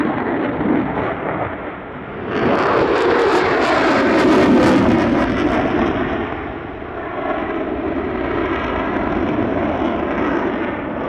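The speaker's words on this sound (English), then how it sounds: "we're about to see one of those aerobatic manoeuvres next, a loaded roll complete with flares" A military jet flying an aerobatic loaded roll with flares at the Wings Over Illawarra 2021 airshow, a loud, sustained engine roar that swells into a broad, rumbling peak before easing and holding steady, with crackling bursts from the flares.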